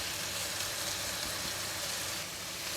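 Yellow onions, fried garlic and red chili sizzle steadily in hot oil with curry powder while stir-fried crab cooks, a dense continuous frying hiss with no voices.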